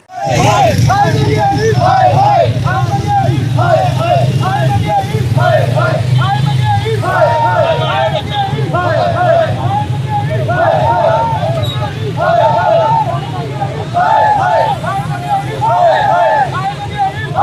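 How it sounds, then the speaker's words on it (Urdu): Local government workers at a street rally against inflation in Punjab chant slogans in unison, a loud, rhythmic crowd chant repeating in regular phrases over steady background traffic and crowd noise. "جہاں نعرے بازی کرتے رہے وہ ہم نے آپ کو سنوا"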